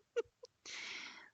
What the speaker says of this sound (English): Did you just sneeze?